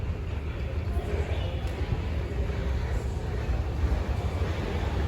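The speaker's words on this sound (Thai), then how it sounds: "721 ที่พิเศษนะครับ เข้าทางที่ 1 สถานีรถไฟสุราษฎร์ธานี" Freight train 721 pulls into platform 1 at Surat Thani railway station in Thailand, a steady, heavy low rumble rolling on continuously at close range with no let-up.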